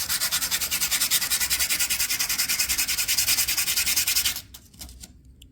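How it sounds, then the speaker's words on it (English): Car brake pads are rubbed hard against sandpaper in fast, even back-and-forth strokes, a loud close rasping scrub with a regular rhythm that abruptly stops, followed by a few softer scrapes. "So let's take the brake pads with the sandpaper."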